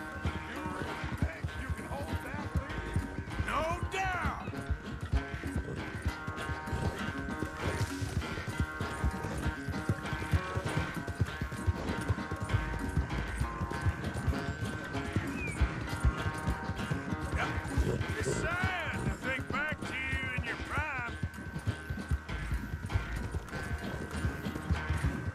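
Horse hooves clip-clop steadily at a gallop in Red Dead Redemption 2, with an occasional whinny, set against a continuous dense game soundscape of music and ambience.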